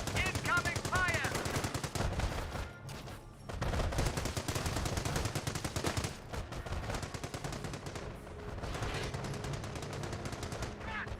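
Machine gun fire in the Company of Heroes video game, with dense, loud, continuous rapid bursts layered with other battle gunshots and a voice speaking briefly.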